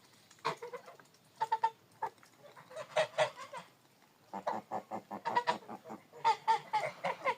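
Domestic geese, an old goose and young ones, honk repeatedly in loud bursts, a close flock calling back and forth with short pauses between volleys.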